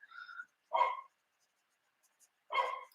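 Dogs give two short barks spaced well apart, crisp and fairly close in a quiet room, with a faint higher squeak just before the first.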